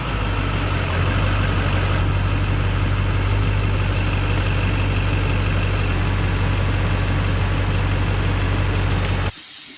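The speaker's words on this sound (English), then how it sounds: "I'm gonna start it, let it idle, let it pump some fluid through" A GM truck engine idles steadily and close by after a steering box install, a constant low drone for about nine seconds that cuts off near the end.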